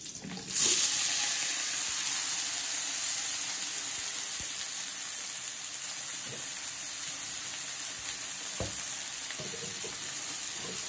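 Sliced onions fry lightly in hot oil in a pan, giving a steady, close sizzle that runs throughout with a few soft clinks and no talking.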